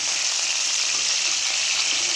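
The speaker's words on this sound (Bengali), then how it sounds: "এইখানে চিংড়ি মাছগুলো ভাজছি" Prawns fry in a pan with a steady, close hiss of bubbling oil that holds evenly all the way through, and no voices are heard.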